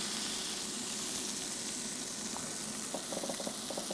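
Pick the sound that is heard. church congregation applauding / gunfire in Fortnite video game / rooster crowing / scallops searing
scallops searing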